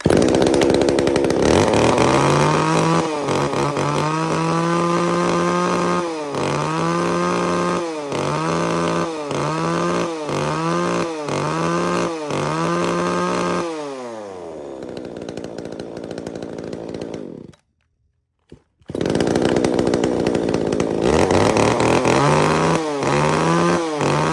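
A used Japanese chainsaw of the STIHL, Makita, Echo or Tanaka kind, suited to cutting wood 15 to 20 cm across, runs loud and close, revving repeatedly in rhythmic bursts, then winding down and cutting out before restarting and revving again.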